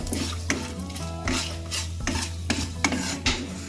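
Whole bay leaves dropped into hot oil with tempering spices for a Bengali doi katla, crackling close and loud while a spatula stirs and scrapes the pan in regular strokes, a low steady hum underneath.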